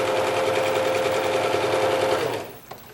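A sewing machine runs steadily for over two seconds while stitching a seam joining quilt blocks, a close, fast, even motor whir and needle chatter that stops abruptly near the end.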